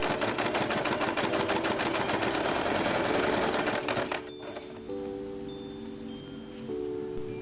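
Close, rapid stitching from a sewing machine sewing a faux fur Christmas scrunchie closed, a dense mechanical clatter that stops after about four seconds, leaving faint tones and quiet room sound.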